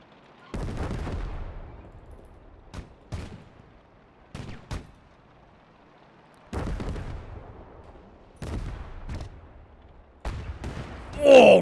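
A 122 mm artillery gun fires in the Gates of Hell battle game: repeated heavy booming shots with rumbling decays, some near and loud, others quicker and sharper, spread irregularly across the scene.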